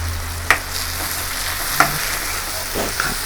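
Half a tomato frying in a hot pan for a spicy tuna roast, a steady broadband sizzle with two sharp clicks of a utensil stirring against the pan, no voices.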